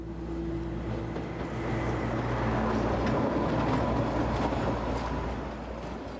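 A narrow-gauge Kalka-Shimla railway wagon, on 76 cm track, rolls steadily with a continuous low rumble and hum, the sound close and fairly loud throughout.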